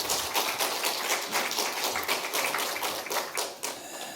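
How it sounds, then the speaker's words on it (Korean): A church congregation claps together at a Sunday worship service, a dense steady patter of many hands filling the room for several seconds with no voices over it. "우리 하나님께 감사와 영광의 박수 올려드리겠습니다."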